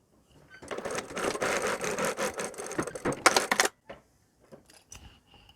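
A sewing machine stitches a 1 cm seam on a fabric headband, running in a close, rapid whirring burst for about three seconds before stopping, followed by light handling clicks.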